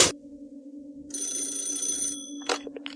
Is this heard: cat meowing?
no